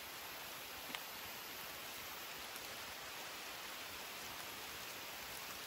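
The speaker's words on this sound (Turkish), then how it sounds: "Şu an yağmur yağıyor." Rain falling on a forest camp and shelter, a dense, even hiss of drops that holds steady throughout with no other sounds standing out.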